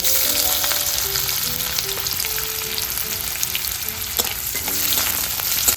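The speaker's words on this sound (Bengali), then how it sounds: "একটু হালকা করে এগুলো ভেজে নেব" Continuous crackling sizzle of chopped onion frying in oil, close and loud, with scattered pops and a faint hum beneath.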